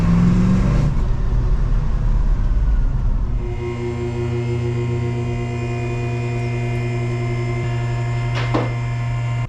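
A 1971 Ford Mustang's 302 V8 engine idles steadily with a deep, even hum and a low throb, close by, with no voices.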